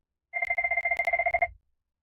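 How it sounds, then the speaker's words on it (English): A telephone at a workplace rings in the background with a rapid, steady bell trill lasting just over a second, fairly loud, with no voices. "Sounds like you got the phone ringing in the background."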